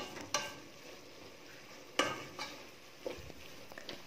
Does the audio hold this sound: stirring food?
yes